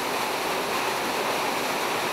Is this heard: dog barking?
no